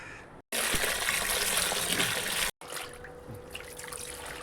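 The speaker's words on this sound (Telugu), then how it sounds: "బాగా ఆకుని శుభ్రంగా కడుక్కోవాలా. ఎక్కువ నీళ్ళల్లో కడుక్కోవాలండి." Red gongura (sorrel) leaves are washed in plenty of water, giving a steady close trickling and splashing that runs for a couple of seconds, drops out briefly, then returns with quieter swishing.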